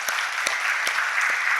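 A church congregation applauds during an Easter service, a brief, continuous burst of clapping with a few sharper individual claps standing out.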